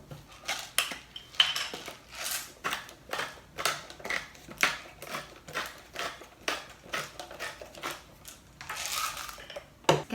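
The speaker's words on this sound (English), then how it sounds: "Get our utensils and mix this guy all up." Utensils clink and scrape steadily against a bowl while tabbouleh salad is tossed and mixed, a close, rhythmic clatter of repeated strokes with no talking.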